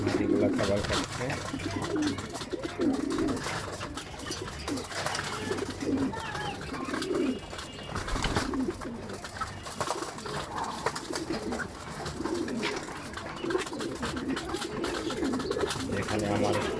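Pigeons, one round-bodied male and two females, coo repeatedly in a loft while they feed, close and fairly loud, with a voice speaking over them.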